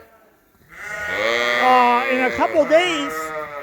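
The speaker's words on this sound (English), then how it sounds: "225 sheep in this barn right here, right now" Sheep bleat loudly and repeatedly in a barn holding a couple hundred animals, wavering cries overlapping from close by while someone talks over them.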